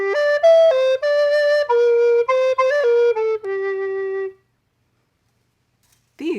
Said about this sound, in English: In this box is a beautiful alto wooden recorder.